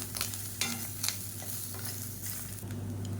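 Grated coconut stirred and roasted in a pan for a tempering side dish, a steady close sizzle with a few scraping spoon strokes, no voices.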